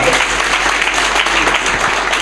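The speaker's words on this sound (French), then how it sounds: "une équipe que j'aimerais bien que vous applaudissiez de ma part" A youth supporters' gathering applauds the team, with steady, fairly loud crowd clapping filling the moment without pause.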